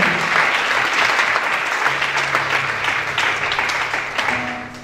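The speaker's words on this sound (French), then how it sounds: "Acclamons pour Jésus pour ce merveilleux conseil" A church congregation applauding, loud dense clapping already in full swing that carries on steadily with a low sustained tone beneath, then tapers slightly at the end.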